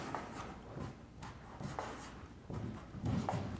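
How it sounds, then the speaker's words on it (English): Pen or marker scratching out a math note during a geometry lesson on parallelogram and trapezoid area, a run of close, scratchy strokes in uneven bursts with brief pauses, no voices. "So I'm gonna write that down."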